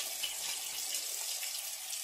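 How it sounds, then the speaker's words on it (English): A tap runs steadily into a kitchen sink while hands are washed clean of sticky molasses, a close, continuous hissing splash with no talk. "Let me wash my hands off."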